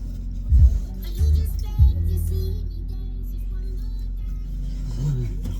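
Inside a dirty car on the road in Palmerston North, a low steady engine hum and road rumble carry on throughout, with a few thumps early on.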